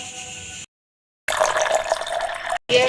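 Water splashes and runs steadily while rice is washed in a kitchen, loud and close, broken by a brief silence and a short cut near the end.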